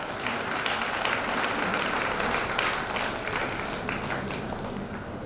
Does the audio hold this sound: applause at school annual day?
yes